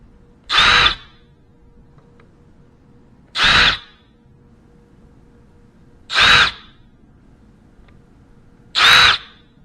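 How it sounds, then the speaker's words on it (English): Carbide countersinking tool deburring drilled steam holes in small-block Chevy 400 cylinder heads, heard as four short, loud, evenly spaced bursts of whirring tool noise separated by quiet pauses. "So I got a little carbide countersinking tool. We'll just go around and break these sharp edges."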